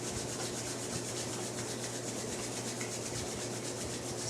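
Palms rubbing together with essential oil during a chair yoga session, a steady soft swishing friction that continues evenly throughout at close range.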